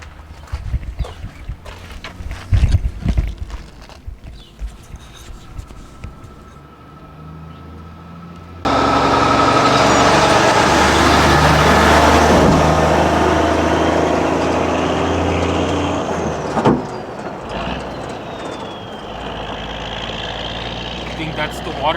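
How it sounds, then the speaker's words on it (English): A heavy water truck engine rumbles steadily for most of the clip, driving past nearby on a dirt road after quieter outdoor noise and some talking at the start. "I think that's the water truck right there."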